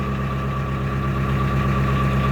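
A narrowboat's diesel engine, started after heating the glow plug, idles with a steady close rumble and faint knocking, loud and even throughout.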